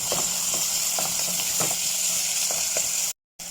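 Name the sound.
onion and chicken cubes frying in a pan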